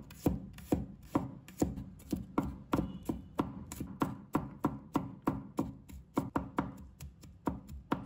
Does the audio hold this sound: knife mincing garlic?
yes